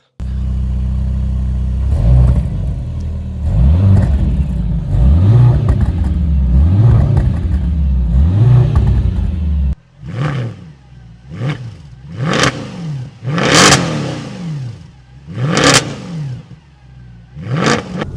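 A 2024 Mercedes-AMG C63 S E Performance, a four-cylinder hybrid, pulls away with rising and falling engine revs through repeated gear changes, loud and close, with sharper bursts of acceleration later on.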